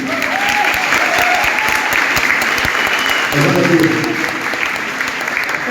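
Audience applause fills a podcast event in Sepetiba, a dense, steady wash of clapping throughout with voices talking and calling out over it.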